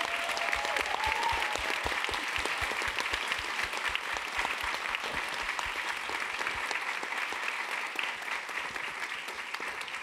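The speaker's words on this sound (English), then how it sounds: "Let's give them a round of applause." A round of applause from the audience at a White House conversation on mental health: sustained, even clapping from a large room, moderately distant, continuing unbroken with no speech.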